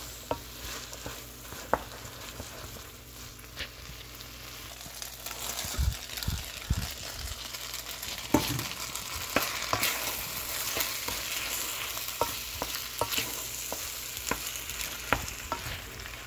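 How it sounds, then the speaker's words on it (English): Noodles with shrimp stir-fried in a pan: a steady close sizzle runs throughout, broken by sharp clanks and scrapes as the noodles are tossed. "So throw the noodles in. I'm tossing them."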